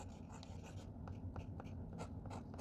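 A Kaweco AL Sport fountain pen with a medium nib scratches across paper in quick, soft, close strokes, quiet and continuous with no voice.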